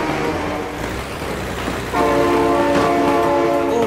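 A train in the video game BeamNG.Drive rumbles past, then a loud, sustained horn blast kicks in partway through and holds steady to the end with no speech.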